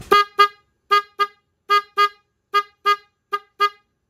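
A two-tone car horn honks in short bursts, mostly in quick pairs, loud and close with silence between.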